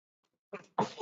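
A soft, nearby sneeze: a brief intake then a sharp burst, fairly quiet overall.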